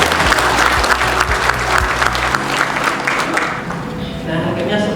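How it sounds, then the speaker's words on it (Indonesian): An audience at a bank motivational seminar breaks into applause, a thick wash of clapping with low thumps and a voice over a microphone underneath that thins out toward the end. "Tepuk tangan dulu dong."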